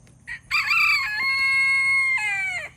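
A rooster crows once, loud and close, a long drawn-out call with a rising start and falling finish, after a brief short sound.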